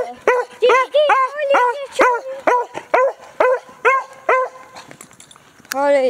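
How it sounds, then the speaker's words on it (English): Several dogs bark in repeated short, loud yips, about a dozen in quick rhythm, close by, then fade into softer whimpering near the end. "Well, first we'll get the dogs out"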